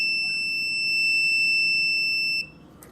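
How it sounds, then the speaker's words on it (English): A multimeter sounds a steady, piercing continuity beep during testing of a GE microwave, held for over two seconds before cutting off abruptly, with a faint click after. "You're gonna get some beep right here."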